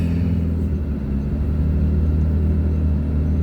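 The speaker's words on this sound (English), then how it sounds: "Gonna do a POV drive of the McLaren." A McLaren sports car drives along with a steady, loud low engine rumble heard from inside the cabin, holding an even note throughout with no talking.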